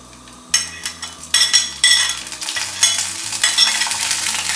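Ginger garlic paste sizzles in a pan while a metal spoon stirs and scrapes it, giving repeated clinking strokes over a steady frying hiss, close and fairly loud.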